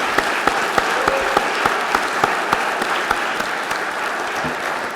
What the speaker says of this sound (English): Let's have a round of applause for the College of Idaho.